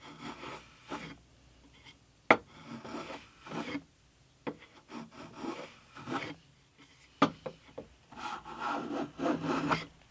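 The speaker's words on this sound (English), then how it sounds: "Next thing to do is to plane a 92-degree angle top and bottom." Wooden end block for an acoustic guitar being hand-planed to an angle, giving separate rasping strokes and scrapes at an irregular pace, with a quicker run of rubbing strokes near the end and no voices.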